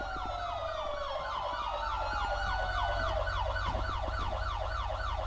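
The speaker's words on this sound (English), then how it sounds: "Here comes the ambulance." An ambulance siren in a police role-play video game wails in a steady, rapid up-and-down sweep, loud and continuous over a low engine rumble, with no talk.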